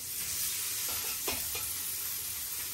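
Chopped onion and green chili frying in oil in a wok, a steady bright sizzle with a few soft stirring scrapes, close and continuous with no talking.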